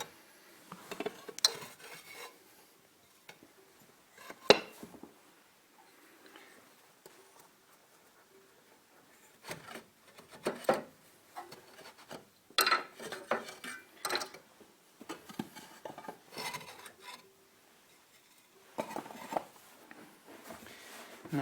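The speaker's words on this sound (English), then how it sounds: "get my braddles into the side bricks and remove them" Bradawls prying and scraping the side bricks loose from a Stovax Brunell 2CB wood stove during a service, heard as irregular metallic clinks, scrapes and knocks in scattered bursts with quiet gaps between them.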